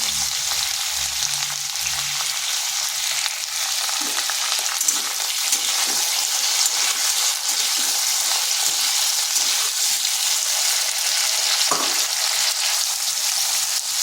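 Potato and kakrol (spiny gourd) fry in a pan with salt and turmeric, a loud, continuous hiss of sizzling oil close up, with a few soft stirring knocks and no voices.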